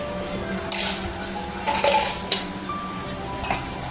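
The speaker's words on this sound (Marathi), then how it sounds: "सगळं चांगलं मिक्स करून घ्यायचं." Red chili powder and salt stirred together in a cooking pan, a few clinks and scrapes of a utensil against metal standing out over a steady background hum.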